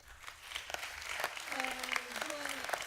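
An audience at a talent show final applauds with steady, dense clapping while someone speaks over it.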